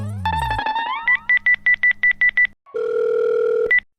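A telephone sounds a short tone followed by a quick run of about nine evenly spaced dialing beeps, then a steady tone and one final beep, loud and close with no talk.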